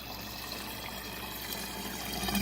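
Water pours continuously from the overflow pipe of an aquaponic grow bed, a steady close splashing rush that swells slightly toward the end, with no voices.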